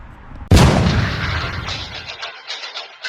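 HDX68 16-joule pump-action air shotgun fires one sharp, loud report at close range, followed by a decaying echo and faint clatter.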